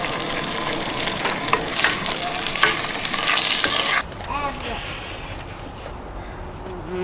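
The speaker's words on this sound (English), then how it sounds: "you can tell that the pot's already hot, and you can hear it cooking already" Food stirred and sizzling in a hot pot at a dispersed campsite near Payson, Arizona: a steady frying hiss with scraping stir strokes, loud for the first four seconds, then quieter sizzling with faint chirps and background noise.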